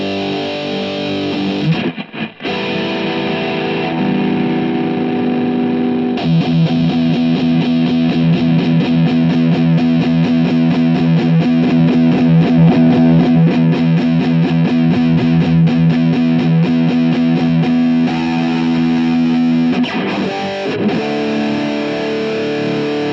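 An electric guitar played through a distortion pedal gives a loud, saturated, sustained tone, with chords ringing for long stretches broken by a couple of brief pauses and re-attacks, played alone.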